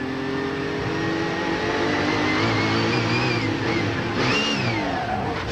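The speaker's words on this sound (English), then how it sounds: "just at the moment he changes gears, which is when there's a lot of load, you'll hear the motor rev up" Race car engine at Sebring's 12-hour endurance race, heard from a distance, revving through a gear change under load, a steady loud drone with pitch sweeps rising and falling over several seconds.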